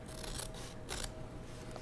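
Small scissors snip through felt fabric while trimming away excess around a gingerbread cookie ornament, a few soft close crisp cuts with a brief louder snip near the middle.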